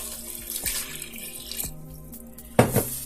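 Water runs from a kitchen tap into a sink to make gravy, a steady splashing stream with clatter of a container and a louder gush near the end.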